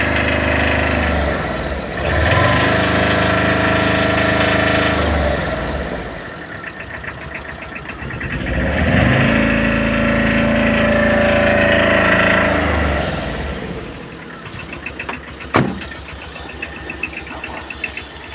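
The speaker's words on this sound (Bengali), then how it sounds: "স্টার্টে আছে গাড়ি এখন বর্তমানে" A car engine runs at a steady idle, a continuous low rumble with a faint knocking texture that swells and eases in slow waves, closely miked, with one sharp click near the end.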